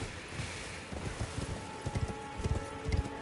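A horse's hooves in the open-world video game Dark Souls, a rhythmic clip-clop of several hoofbeats trotting along, fairly close and clear, with no talking.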